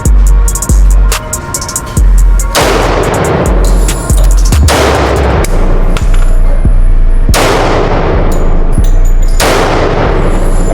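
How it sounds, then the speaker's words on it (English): Repeated gunshots from a Glock 20 10mm handgun at an outdoor range, sharp loud cracks in irregular single shots and quick pairs, close by with ringing decay between them. "Glock 20, 10 mil."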